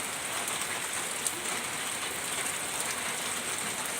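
Steady rain falls outdoors, a dense, even hiss of drops with no pauses and no voices.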